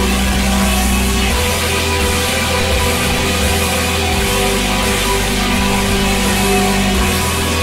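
Guitar sample processed with a preset and skin mask effect for a dark trap beat, a dense, saturated, sustained wash of sound at steady loudness with no breaks, alone without voices.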